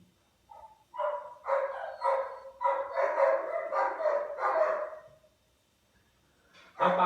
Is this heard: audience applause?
no